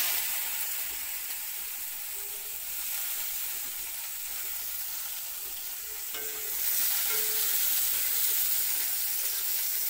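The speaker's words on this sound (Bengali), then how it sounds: "এবার দিয়ে দিলাম পেঁয়াজ কুচি" Chopped onion fries in leftover oil in a wok, giving a continuous close hiss and sizzle with occasional stirring scrapes, growing louder in the latter part, with no voices.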